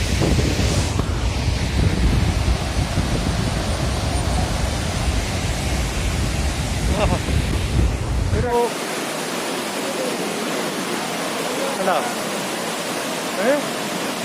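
Athirappilly waterfall roaring as a dense, steady wash of falling water with gusts of wind, loud for most of the stretch before dropping to a thinner, quieter rush; a voice speaks briefly over it.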